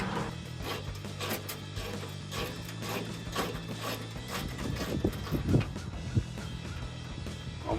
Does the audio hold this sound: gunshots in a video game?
no